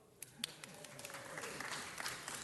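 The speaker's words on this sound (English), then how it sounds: "Feel free to applaud." Applause from the audience at a city council meeting as community honorees are announced, a soft, fairly distant patter of clapping that builds and holds steady.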